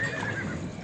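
A horse at a livestock market near Bishkek gives a short, loud, close whinny in one continuous call under a faint background murmur.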